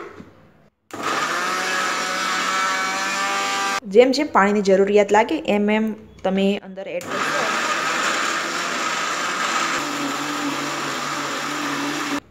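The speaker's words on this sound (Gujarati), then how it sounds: "આ રીતે આપણે મિક્સરમાં એને ફેરવીશું હવે મિક્સરનું ઢાંકણું બંધ કરી દઈશું" A mixer grinder whirs in short bursts, blending detox juice ingredients with about half a glass of water, its motor pulsing loudly between steadier runs while a voice talks over it.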